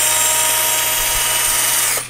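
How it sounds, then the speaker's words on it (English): A WorkPro 20 volt cordless power drill runs at a constant high-pitched whine, loud and close, holding steady before spinning down at the very end. "then there is the drill as well, which is the biggest tool in the bunch"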